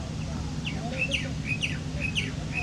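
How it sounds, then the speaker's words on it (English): A crested myna sings in Lisbon, giving a series of short, repeated whistled chirps at a moderate distance over a low hum of street traffic. "Whoa, it worked. What is it? Crested miner."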